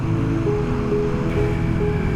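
The Astico river flows through the valley it carved, giving a steady, continuous rush of water throughout with no voices.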